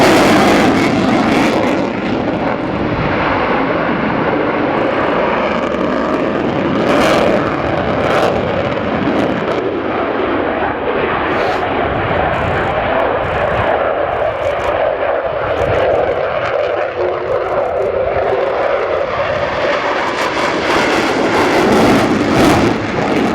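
A Sukhoi Su-27 jet fighter at the Fairford air show roars loud and constant, a continuous engine rumble and rush that swells slightly toward the end, with no break.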